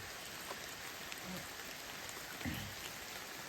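Heavy rain pours outside a cave as a dense, unbroken hiss, steady and fairly close, with a few faint soft knocks beneath it.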